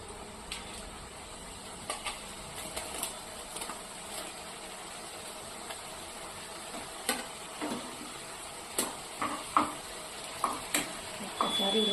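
Pieces of shakarpara dough fry in hot oil with a quiet, steady bubbling sizzle, broken by sharp clicks and taps of a utensil moving them in the pan at irregular intervals.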